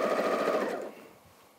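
A sewing machine stitches a quilt in a fast, buzzing run of rapid needle strokes, then slows and fades out within about a second.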